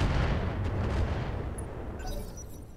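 Mech weapons in Roguetech firing on a target, with a heavy rumbling barrage of booming shots and explosions that is loud at first and then fades, no talking.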